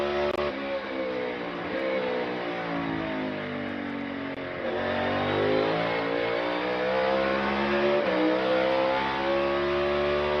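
Bubba Wallace's McDonald's Toyota NASCAR Cup car runs a qualifying lap at Martinsville. Its V8 roar rises and falls as it brakes into the corners and accelerates out, a continuous, moderately distant snarl.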